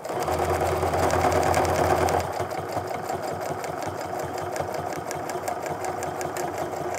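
Home sewing machine running steadily while a quilt is stitched with rulers, a close, continuous mechanical whir with rapid needle clatter that eases slightly in speed after about two seconds.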